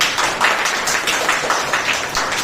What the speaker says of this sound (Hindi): सही हो तो ताली बजा दीजिए